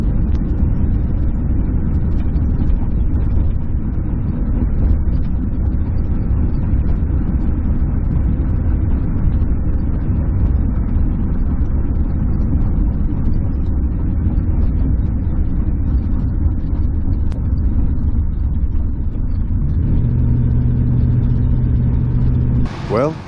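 A car engine drones steadily from inside the cabin while driving home after a blown-out spark plug repair, a constant mid-pitched hum with road noise and occasional voices underneath.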